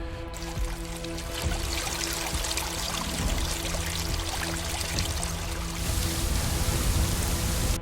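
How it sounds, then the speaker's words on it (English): Continuous rushing, trickling water like a flowing river in a Foundry VTT tabletop game scene, steady and fairly loud, swelling a little near the end, with no voices. "I've added sounds around the river just to provide a bit of ambiance for what the river would sound like."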